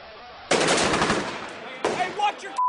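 Bursts of loud automatic gunfire from the Iraq War battle in Fallujah, two sustained rattling volleys separated by a short pause, with shouting mixed into the firing.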